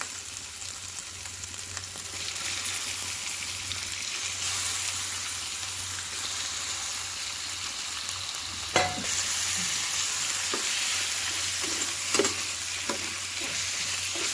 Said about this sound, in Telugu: ఉల్లిపాయలు అల్లం వెల్లుల్లి పేస్ట్ అంతా వేగిపోయింది ఇందులో మనము రాళ్ళ గుండికాయలు వేసుకుందాం